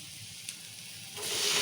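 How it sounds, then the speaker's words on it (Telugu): Tomatoes tipped into hot oil with ginger and garlic in a pan for a tomato curry, giving a quiet low hiss that suddenly swells into a loud, steady sizzle partway through. "ఇప్పుడు టమాటాలు వేసుకుందాం."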